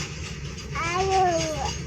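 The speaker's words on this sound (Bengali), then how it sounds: "মালগাড়ি রে? কত বড় ট্রেন রে।" A large freight train rolls past nearby, a steady rumble and wheel noise with a drawn-out squeal or whistle tone rising in the middle, with no talk over it.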